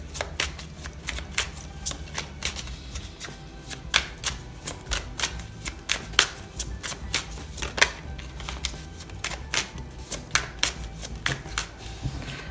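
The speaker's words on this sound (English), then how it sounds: "let's go ahead and get a few astrology cards out here" Astrology cards are shuffled by hand, a quick run of crisp riffling flaps and clicks repeating in a steady rhythm close to the microphone.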